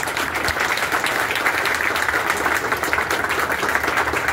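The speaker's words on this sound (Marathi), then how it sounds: "त्याच्यासाठी जोरदार टाळ्या." Loud, dense applause from a crowd at a people's movement unity rally on Republic Day, cheering a music composer, a steady roar of many hands clapping throughout with no gaps.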